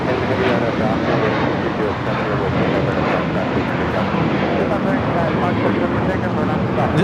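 A JetBlue Airbus A321 taking off at LAX, heard as a loud, steady, broadband roar of jet engines that stays dense and constant throughout, with a voice talking over it.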